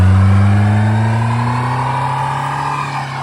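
A blue Ford Mustang's engine roars loud and close as the car pulls away, a deep steady drone that eases slightly over a few seconds.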